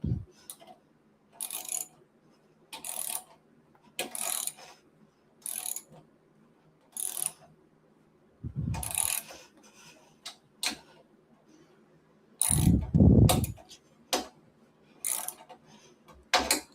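A ratchet tightens a bolt on a sim racing cockpit frame in repeated bursts of rapid clicking separated by pauses, close and crisp, with a couple of heavier clunks near the end.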